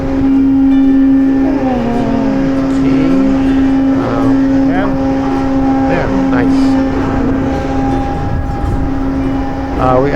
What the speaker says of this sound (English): this is how we wind up or we wind back the mooring wires here